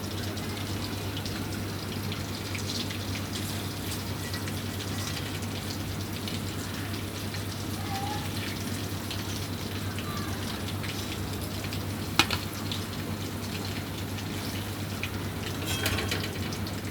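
Beef tikia patties fry in a pan, giving an even, rain-like sizzle that holds steady throughout over a low constant hum, with one brief sharp click near the end.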